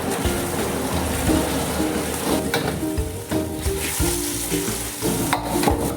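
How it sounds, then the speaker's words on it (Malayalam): Fried cauliflower stirred into a sizzling chilli gobi gravy thickened with cornflour: a steady loud sizzle and frying hiss, with scraping stir strokes against the pan throughout, and no voices. "ഇനി ഇതിലേക്ക് നമ്മൾ വറുത്ത് വെച്ചിരിക്കുന്ന കോളിഫ്ലവർ"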